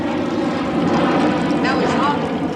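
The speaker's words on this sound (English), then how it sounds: "There's a jumbo jet going over now." A jumbo jet flying over Shepherd's Bush, a loud steady engine roar filling the whole clip and running under a voice.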